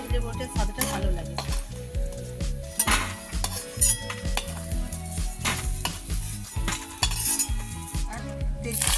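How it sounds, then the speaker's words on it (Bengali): Lentil dumplings fry in a pan, giving a steady sizzle broken by frequent metallic scrapes and clinks of a utensil against the pan, heard close with no speech. "বড়িটাকে একটু লাল লাল করে ভেজে নিতে হবে।"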